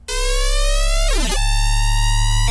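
A synth square wave runs through a phaser set to deeper, Hertz and octave modes. It is a loud, sustained buzzy tone, and a notch sweeps down through it and back up partway through.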